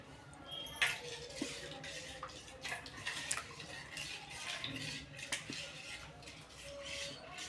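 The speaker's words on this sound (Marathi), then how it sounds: "हे सगळं छान मिक्स केल्यानंतर मिक्स करून घ्यायचे." A spoon stirs and clinks against a bowl as pani puri filling is mixed, giving irregular close metallic taps and scrapes with faint voices in the background.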